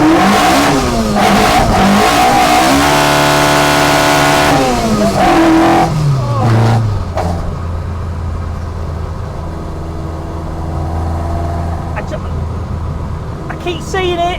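Ford Escort fitted with a Vauxhall C20XE engine revving hard toward 9,000 RPM, loud and close, pitch climbing and falling in sharp sweeps before easing into a lower steady drone, with speech heard alongside.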